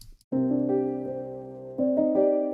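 A Kontakt synth melody from the Watching the Stars preset, reverb turned down, plays alone as sustained layered chord tones after a brief pause, shifting chords twice in a slow, spooky progression, clear and close.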